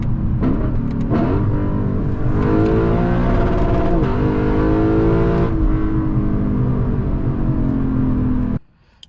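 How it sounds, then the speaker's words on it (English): A Lexus LC 500 V8 revs hard and bounces off the rev limiter, a loud close stuttering engine note with rising and falling pitch that holds for over eight seconds before cutting off abruptly. "if you've never heard the rev limiter on these cars before"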